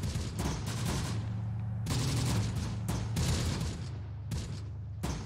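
Machine gun fire in the WWII strategy game Close Combat: The Bloody First, loud repeated bursts of rapid shots crackling back to back with short gaps, dense and continuous throughout.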